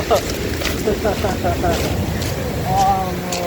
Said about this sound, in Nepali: बवाल छाल हाल्यो यार